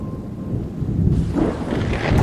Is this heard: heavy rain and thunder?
yes